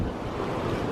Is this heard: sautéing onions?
no